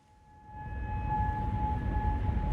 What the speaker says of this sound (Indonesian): Suara sirene meraung di Kuwait pada Minggu pagi